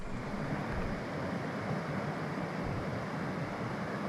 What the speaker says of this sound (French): Je vous présente la rivière Blanche.